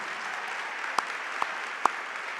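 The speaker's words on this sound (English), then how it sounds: "Let's give them a big round of applause." A banquet-hall audience at a business hall of fame induction dinner applauds in a steady, fairly distant wash of clapping, with a few louder individual claps standing out.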